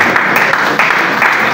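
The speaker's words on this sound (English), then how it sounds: "a round of applause for our daddy" Audience at a music album launch in church claps loudly for Pastor Prosper, a close, dense burst of many hands with slight surges in intensity.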